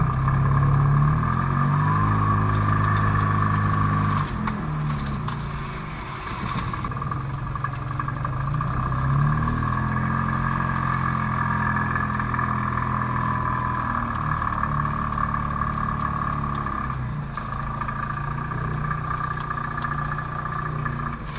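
A 2021 Ligier JS60 microcar engine runs at a steady close idle, a low droning hum with a faint mechanical clatter throughout.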